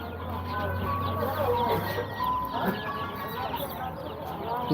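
About five hundred two-day-old layer chicken chicks peep and chirp continuously in a dense, overlapping chorus, with a low voice murmuring underneath.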